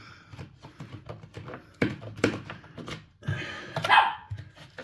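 A dog in a home workshop barks in a string of sharp, loud yaps at a close distance, bunched irregularly, with a louder whining yelp near the end.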